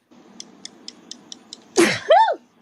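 A series of soft clicking ticks, then a single loud, sharp sneeze with a rising squeaky tail at the end.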